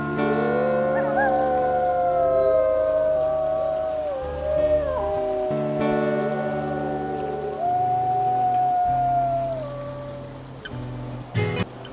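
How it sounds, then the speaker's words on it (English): Several long, wavering wolf howls in the video game WolfQuest rise and fall together in the distance over a steady low drone, with a short clatter near the end. "We can hear some other wolves off in the distance."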